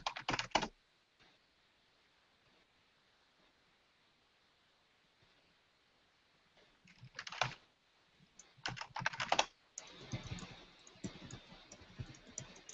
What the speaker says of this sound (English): type in probate.